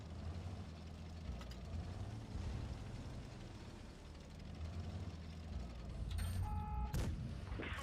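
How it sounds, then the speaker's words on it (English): HE artillery shells explode in a tank battle video game, heard as a rumbling low-end roar of distant booms. A sharper burst of clanks and impacts comes near the end. "Another HE shell."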